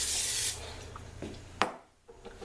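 One short aerosol cooking-spray hiss coats a small meatloaf pan, followed by soft clatter and handling sounds in a kitchen.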